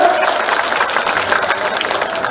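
A crowd applauds at a BJP public rally in the market square of Sanwer, a loud, dense, steady wash of clapping that fills the whole stretch without pause.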